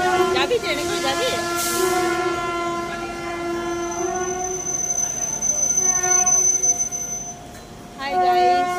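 At Durgapur railway station, a train's horn sounds in long sustained tones over the low rumble of rolling railcars, with people talking nearby.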